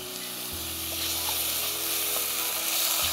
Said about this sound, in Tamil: வெங்காயம் லேசாக வதங்கினோடனே தக்காளி சேர்த்துக்கோங்க